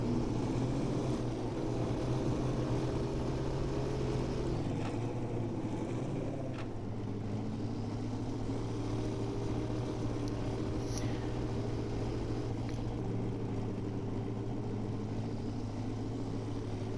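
A modded truck in SnowRunner churns through thick mud, its engine droning steadily with pitch shifts as it strains and revs, loud and continuous throughout.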